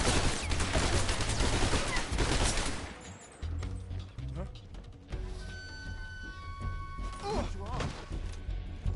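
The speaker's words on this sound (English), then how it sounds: "What are you shooting at, buddy?" Rapid bursts of gunfire in Metal Gear Solid Delta: Snake Eater, loud and chaotic at first, then scattered shots and mechanical clatter, with voices speaking over it.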